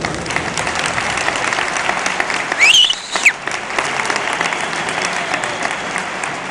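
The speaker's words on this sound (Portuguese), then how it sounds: "Uma salva de palmas para os dois atletas." Steady applause from an audience at a karate gala for two athletes, continuous clapping throughout with a brief voice rising over it midway.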